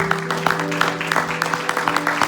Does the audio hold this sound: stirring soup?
no